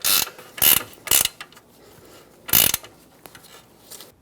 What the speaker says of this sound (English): If you have a ratcheting wrench, 19 millimeter in size, this will come in handy because it's going to make things a lot faster.